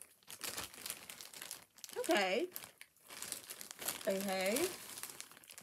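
Plastic bag packaging crinkling during a luxury birthday unboxing of designer items, broadband rustles running through the clip under a voice, with two short spoken bursts interrupting.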